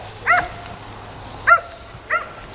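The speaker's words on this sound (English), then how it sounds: "Oh, somebody's dog is here." A dog barking in a forest, three sharp barks spaced irregularly at moderate distance over quiet outdoor background, with no talking.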